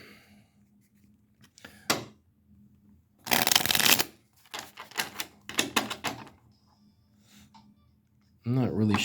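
Tarot cards being shuffled by hand in several separate bursts of crisp riffling and flicking, close and fairly loud, with quiet pauses between the bursts and a few soft handling clicks.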